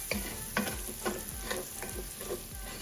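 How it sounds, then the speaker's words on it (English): A utensil scrapes browned bits off the bottom of a sizzling pan for chicken and rice, with rhythmic strokes about every half second over a steady frying hiss. "this is gonna help us scrape off all the little bits on the bottom"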